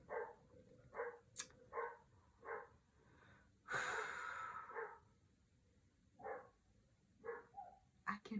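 Dogs give a series of soft, distant huffs and snorts at a steady pace, interrupted by a longer breathy rush of noise, all faint against quiet surroundings.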